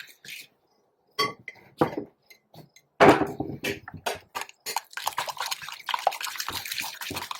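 Two eggs being mixed in a bowl for an old-fashioned carrot pie, close and fairly loud, with irregular wet sloshing and sharp clinks of utensil against bowl that come in bursts with short pauses and no talking.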